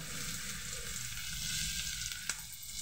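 Onions go into hot oil in a pan ahead of frying eggs, giving a close, continuous sizzle with a brief sharp crackle near the end and no talking.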